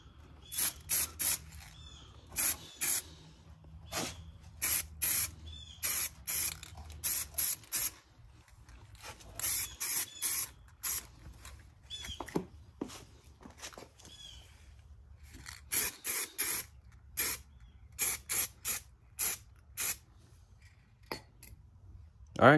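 Repeated short bursts of spray paint from an aerosol can coating brake calipers, many hissing sprays with brief pauses between, close and fairly loud.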